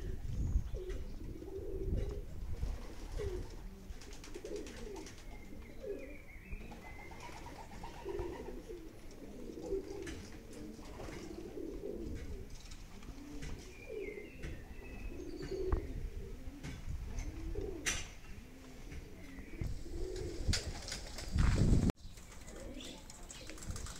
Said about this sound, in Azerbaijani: Tovuz etrafından 440 km'den ilk gelen quş.